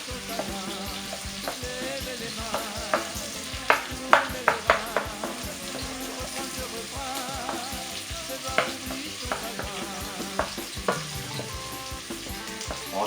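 Onions sizzle steadily in a frying pan, with a spoon clinking and scraping against the pan now and then, close up and without talk.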